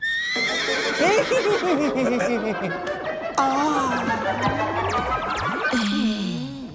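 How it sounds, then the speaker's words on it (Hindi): A horse whinnies in a long, wavering call, loud and close, with chatter and other voices overlapping throughout. "हिनहिनाने का साउंड बहुत अच्छा था"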